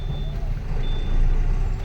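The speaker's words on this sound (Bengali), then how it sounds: "এইসব গাড়িগুলো সব পাথর লোড করে এলো খাদান থেকে।" Stone-loaded trucks on a road near a quarry town, a heavy low engine rumble rolling steadily past with a thin high beeping tone over it, loud and close, no voices.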